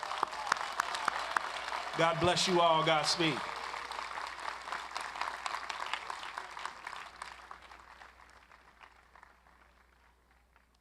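Applause from a large crowd of graduating men and guests at the Morehouse College 2015 commencement, rising loudly in dense broadband clatter and slowly fading over about ten seconds, with a voice speaking over it near the start.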